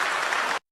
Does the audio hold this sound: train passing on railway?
no